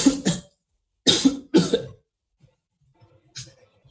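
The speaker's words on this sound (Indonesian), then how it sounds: "maaf saya batuk ya." A person coughs close to the microphone indoors, a sharp double cough followed by two more bursts a moment later, then quiet with faint small sounds.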